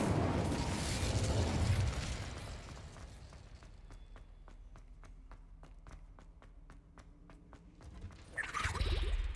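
In the wizarding game Hogwarts Legacy, the Incendio fire spell is cast with a whooshing burst of flame, followed by a quieter stretch of evenly spaced clicks before another roaring surge of fire.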